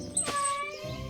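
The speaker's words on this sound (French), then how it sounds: "Ce ne sont que des chatons." A cartoon kitten from an animated Goldilocks and the Three Bears fairy tale gives a short, high, plaintive meow that sounds close and alone.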